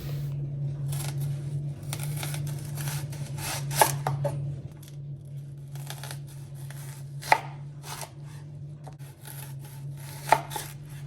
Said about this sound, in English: I'll go ahead and cut some round onions for garnishing